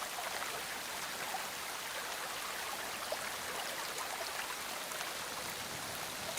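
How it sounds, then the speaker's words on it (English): Floodwater rises around an ant colony, a steady, even wash of flowing water like a stream or heavy rain that holds at one faint level throughout with no voices. "But still, the water rises."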